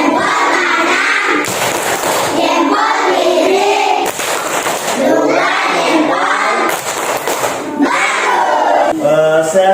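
Children in a classroom perform a group clapping routine together, loud rhythmic claps mixed with shouting and chanting voices throughout.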